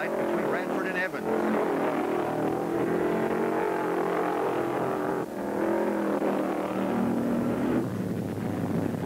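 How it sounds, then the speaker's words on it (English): A Ford Mustang race car roars at full throttle on a racetrack, a steady loud engine drone lasting throughout with brief dips, while a commentator talks over it. "And Maynard Troyer has that Mustang all wound out as he puts a little daylight between Radford and Evans."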